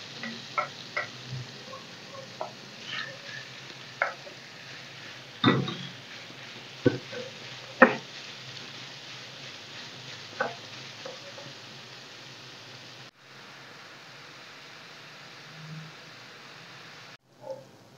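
Chopped, skinned Tuscan sausage frying in a pan, giving a quiet steady sizzle scattered with sharp pops and ticks, with a few louder crackles.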